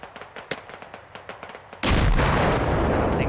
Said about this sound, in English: Throw the grenade in the bunker.